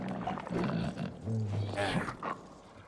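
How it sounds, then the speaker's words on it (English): Muffled zombie growls from upstairs in the video game Back 4 Blood, low guttural roars rising and falling through the clip, with a few louder snarls near the middle over a dull background. "They seem to be coming from the specific zombies that are upstairs."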